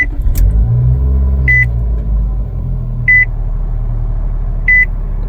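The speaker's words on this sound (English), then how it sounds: "put my foot on the brake and press the standard push to start button on the SV trim" A 2025 Nissan Altima SV engine started by push button, a low idle rumble settling after the start with a chime beeping three times at regular intervals over it.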